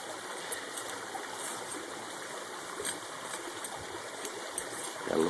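Water swishes and trickles continuously in a gold pan during a backwash, a soft steady wash of water with a slightly louder slosh near the end and no talking.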